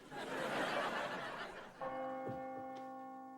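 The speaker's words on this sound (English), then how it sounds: "I hear faint chimes from across the town square." A church bell rings from across a town square in a sitcom scene, its tones ringing and slowly fading after a stretch of broad noisy wash, with a faint chuckle nearby.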